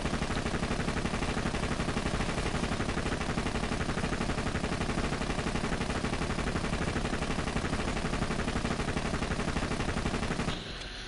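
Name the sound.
legendary pistol gunfire in the video game Borderlands 2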